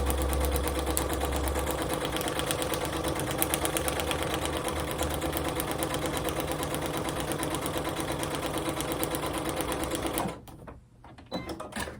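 A sewing machine stitches through braid paper on a roll, running as a steady, close mechanical whirr of rapid needle strokes for about ten seconds before stopping abruptly and leaving quieter handling noise.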